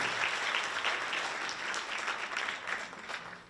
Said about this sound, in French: on applaudit Alexa